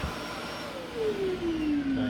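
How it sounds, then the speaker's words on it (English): A Pullman Advance Commander 900 vacuum cleaner runs in blower mode, a loud steady motor roar with a whine that slowly drops in pitch, close and alone. "It blows it like a leaf blower."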